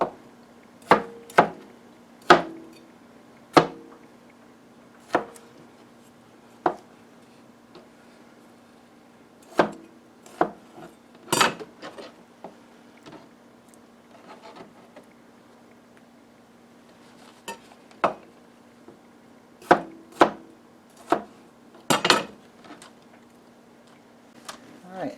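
Knife cuts through cherry or grape tomatoes on a board, a run of sharp, separate taps at an uneven pace with several pauses between them, close and crisp over a quiet room.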